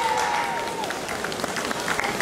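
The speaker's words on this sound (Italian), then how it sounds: "facciamo un applauso." A small crowd claps in steady applause, moderately close, lasting a couple of seconds.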